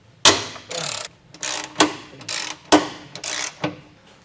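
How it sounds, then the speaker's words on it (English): A ratchet wrench with a 15mm socket works rusty bolts on a trailer hitch, giving a series of sharp clicking bursts and short rasping runs in uneven rhythm, close up with no talking. "We're going to be using a 15mm socket, and we're going to go ahead and get these removed."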